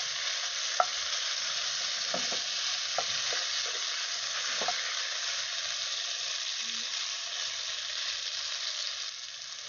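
Potatoes fry in hot oil with a steady, bright sizzle while a utensil stirs them, giving scattered soft scrapes and clicks over the constant hiss, close and moderately loud.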